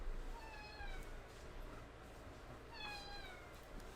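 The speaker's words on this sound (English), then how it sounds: "if anybody can hear my cat again, yeah, she gets really mad when I record the podcast" A pet cat meows twice, each call a rising then falling tone, close by but moderate in loudness over a steady background hum, with a pause between the two calls.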